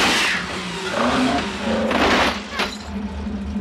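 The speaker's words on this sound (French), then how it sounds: "Et les bagnoles." A car engine revs and roars in a French film, the sound rising and falling with accelerating bursts and a possible tyre skid, loud and close, with voices partly over it.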